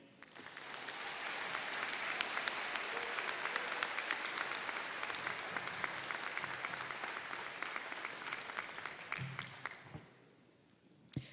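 A high school graduation crowd applauds, a broad, steady wash of clapping that swells quickly, holds for about nine seconds, then fades into quiet with a few stray noises.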